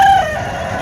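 A Tamil Nadu rooster at a poultry market lets out a loud, close crow that trails off over about a second.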